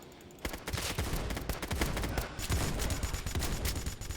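Rapid gunfire in the Roblox survival game Survival Stories, a loud, dense string of shots that starts abruptly and keeps going almost without a break for about four seconds.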